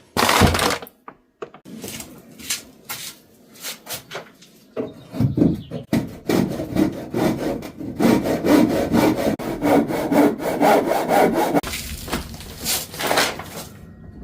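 A handsaw trims an inserted piece of wood during a kitchen build, with loud rhythmic back-and-forth strokes that run steadily for several seconds after some short starts and knocks.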